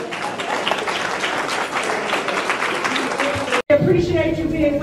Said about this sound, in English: Another round of applause for the elders.